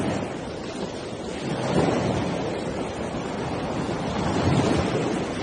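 Ocean waves wash in a dull, steady rush with gentle swells in loudness, blended with wind noise and no voices.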